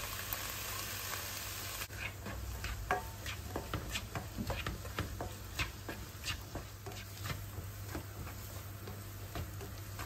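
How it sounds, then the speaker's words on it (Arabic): Vegetables sautéing in a drizzle of oil in a pan after chicken, a constant close sizzle with frequent short clinks and scrapes of stirring, beneath a steady background hum. "نزيد الخضره كامله، غنشحرها مزيان حتى هي كنزيد عليها مليحه رشاشة ديال زيت العود"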